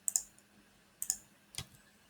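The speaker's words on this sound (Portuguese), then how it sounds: "eu dou um novo Enter aqui" Key presses on a computer keyboard: three quiet, sharp clicks spaced about half a second to a second apart, each a quick double tap, with no talking over them.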